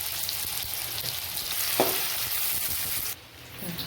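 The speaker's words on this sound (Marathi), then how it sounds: "कांदा छान परतून घेऊ।" Chopped onion sizzles in hot oil with crackled cumin in a pan for red amaranth greens, a continuous frying hiss with a brief stir clatter midway before the sizzle quiets.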